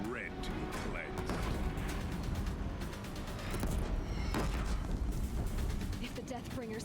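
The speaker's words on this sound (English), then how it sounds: "If the Deathbringers keep firing, this bridge will go." Artillery fire from Deathbringer machines in the video game Horizon Zero Dawn, pounding a bridge during the finale battle: dense, loud, continuous booming and rapid gunfire with rumbling impacts, with a voice speaking over the barrage.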